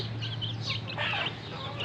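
Free-range native chickens feeding on a mix of rice starch water, rice and bran on a hot afternoon, giving soft, faint clucks over a steady low hum.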